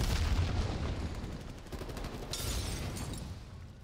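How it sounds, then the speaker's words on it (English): In Call of Duty Black Ops Cold War, a frag grenade blast opens into a rumbling boom, followed by dense, rattling rifle fire and scattered shots in a crowded battle mix. "Frag grenade."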